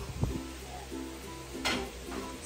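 Breakfast frying in a pan: a soft, steady sizzle runs throughout, broken by a few scrapes and clinks of stirring and a brief brighter hiss near the middle.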